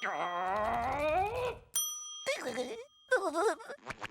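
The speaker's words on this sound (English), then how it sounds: "stop ringing this bell" Bell rung repeatedly in a SpongeBob SquarePants cartoon, bright dings mixed in among cartoon voices talking and other sound effects.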